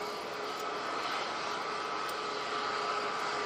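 A Jet2 airliner on approach, heard as a steady, distant broadband roar with a faint engine whine, continuous and even throughout with no voices.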